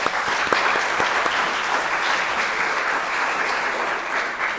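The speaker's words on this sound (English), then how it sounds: "let's give them a round of applause" Steady applause from the audience at a spring studio benefit recital, dense, even clapping filling the room for several seconds without pause.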